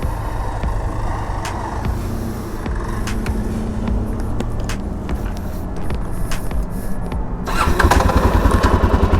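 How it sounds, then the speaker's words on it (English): A 2020 Suzuki DRZ 400 SM supermoto motorcycle runs close by, its single-cylinder engine rumbling and revving with popping throttle blips, then swelling louder as it pulls away near the end. "Supermoto DRZ 400 SM, ripping it"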